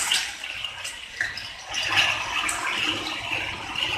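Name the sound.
water poured into melted sugar caramel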